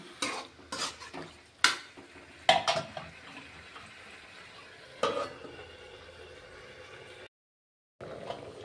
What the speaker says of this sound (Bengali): এবার চিকেনগুলিকে ভালোভাবে নেড়ে একটা ঢাকা দিয়ে কিছুক্ষণ ধরে কষিয়ে নেব।